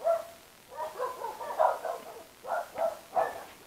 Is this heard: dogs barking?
yes